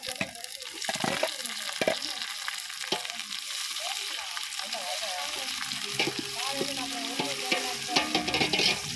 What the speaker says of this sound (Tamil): தக்காளி போட்டு கிண்டவும் எடுத்துக்க புதினாவை போட்டு கிண்டவும்